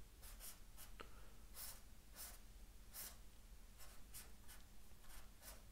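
Pen tip scratching across paper while drawing a triangle, heard as a series of short, close scribble strokes in an irregular rhythm with faint breathing between them.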